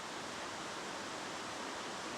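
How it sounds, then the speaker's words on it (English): Steady, loud rush of flowing stream or waterfall water at a wilderness campsite, a broad continuous hiss with no breaks, heard alone without talk. "that water's loud"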